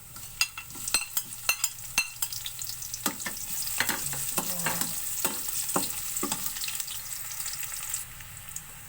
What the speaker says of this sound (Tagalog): Yan po, lalagay ko na po ang sibuyas.